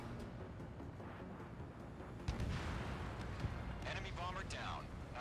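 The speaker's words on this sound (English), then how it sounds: "Missile launched." Ace Combat 7 aerial combat with a missile launch followed by booming explosions under a steady roar of jet engines and radio chatter; sharp blasts land near the middle and a burst of crackling debris follows.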